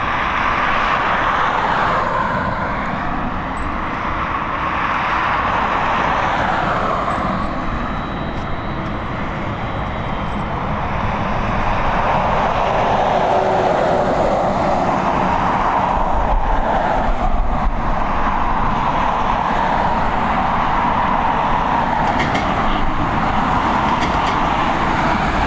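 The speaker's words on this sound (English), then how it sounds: "we've got this Bombardier Global 6000 and no flight info held at all on this aircraft." A Bombardier Global 6000 business jet departs Dublin Airport, giving a loud, continuous broadband jet roar that swells and holds across the whole stretch, heard from a distance outdoors with no talking.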